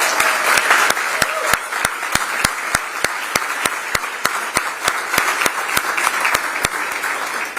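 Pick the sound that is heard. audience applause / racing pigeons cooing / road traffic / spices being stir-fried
audience applause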